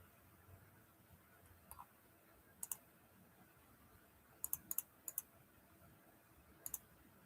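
Sparse clicks of a computer keyboard being typed on, short quiet bursts of two to four keystrokes separated by pauses over a faint steady room hum.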